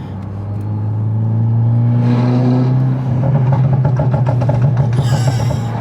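A Volkswagen Golf 7 GTI Stage 2 accelerates with a loud, close engine roar and rising pitch, ending in a crackle of rapid exhaust pops.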